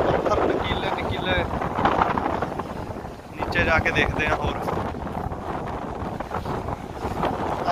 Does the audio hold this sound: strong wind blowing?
yes